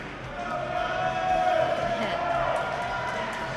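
A crowd cheers and shouts for a lifter at a powerlifting meet. The noise swells in the middle and stays lively, with people talking over it.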